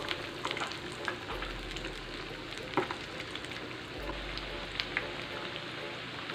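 Breaded fish cordon bleu with cheese frying in hot oil over low heat, a steady dense sizzle and crackle with scattered pops running throughout, close and continuous with no voices.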